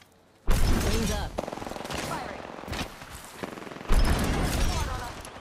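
Apex Legends gunfire erupts in loud, close bursts of rapid automatic shots with short gaps between volleys, mixed with game effects.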